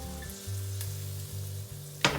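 Veal escalopes frying in a pan of butter and olive oil give a steady, quiet sizzle with a low hum, ending in a short sharp crackle near the end; no one speaks.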